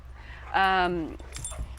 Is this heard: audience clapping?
no